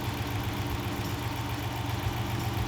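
A Dodge Charger 5.7 V8 engine idles steadily up close after a cold start, a low rumbling drone with a constant vibrating hum and no revving.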